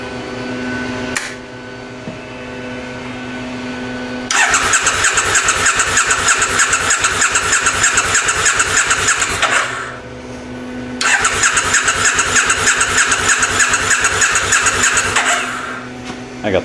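A 2002 Triumph Bonneville America motorcycle with Keihin carburettors started on choke: a brief crank and catch, then a loud steady idle, a dip, and a second loud run. A voice speaks briefly.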